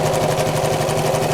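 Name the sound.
sewing machine sewing a triple straight stitch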